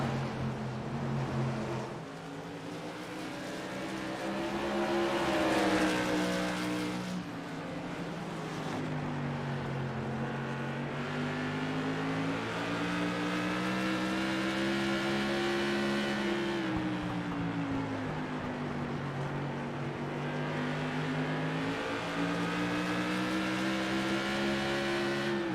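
Tour modified race cars roar around the Myrtle Beach oval, a continuous loud engine drone with pitch rising and falling through throttle changes as the cars battle for position.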